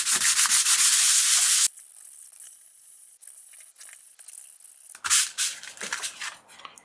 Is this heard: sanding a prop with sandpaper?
yes